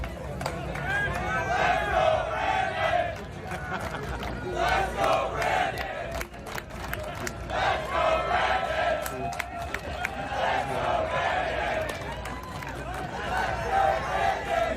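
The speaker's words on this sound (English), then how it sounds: "you can hear the chants from the crowd" A large crowd chants "Let's go, Brandon" in repeated rhythmic waves, loud and sustained, with cheering and babble between the chanted phrases.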